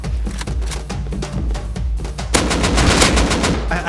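Rapid bursts of automatic gunfire in the survival game Rust, loud and close, with fast repeated shots merging into a dense barrage in the second half.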